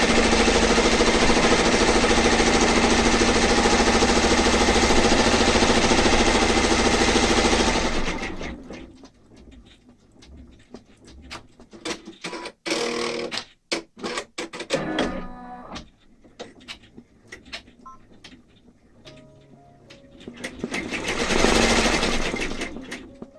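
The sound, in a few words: embroidery machine stitching out a table runner design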